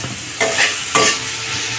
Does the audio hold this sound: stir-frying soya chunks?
yes